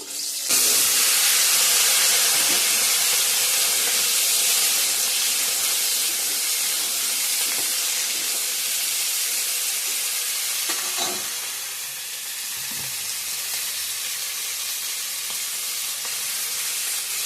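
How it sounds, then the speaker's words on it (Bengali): An egg frying in a pan, a loud continuous hiss and sizzle that holds steady throughout, easing slightly near the end, with a few faint clinks. "ডিমটা এখানে ভেজে রাখছি"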